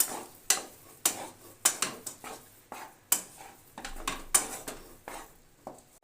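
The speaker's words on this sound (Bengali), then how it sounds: "এলাচ গুঁড়ো দিয়ে ভালো করে মিশিয়ে নিলাম" Besan laddu mixture with cardamom powder is stirred in a pan, a ladle scraping and clinking against the metal in a quick irregular series of sharp knocks, close and fairly quiet, with no voices.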